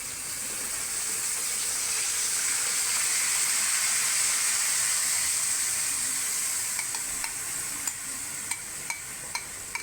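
Green mint-coriander masala paste hits a hot kadai for creamy Afghani chicken, bursting into a loud, steady hissing sizzle close by. Light scraping taps of stirring come in toward the end, with no talk.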